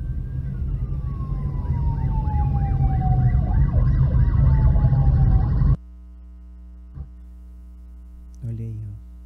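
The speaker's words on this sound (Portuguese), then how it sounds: "Várias ambulâncias do SAMU com as sirenes ligadas, com as luzes piscando." Several SAMU ambulances with sirens on in a funeral motorcade for a doctor in Teresina, Brazil: loud, overlapping wailing sirens sweep up and down for several seconds, then cut off abruptly into a quiet low hum.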